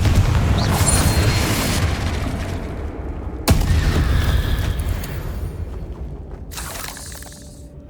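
Confringo blasting spell going off in Hogwarts Legacy, a loud, dense booming burst with shattering debris, one sharp crack midway and a crackling tail, fading toward the end.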